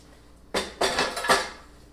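Utensil clinking and scraping in a bowl while stirring fresh pico de gallo of diced tomato, onion, jalapeño and cilantro, three or four quick close knocks in a quiet kitchen.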